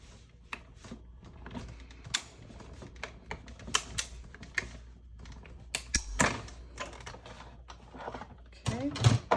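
A die cutting machine cranking a card through while making cards, a string of close clicking and ratcheting ticks in an uneven rhythm that ends in a louder grinding burst.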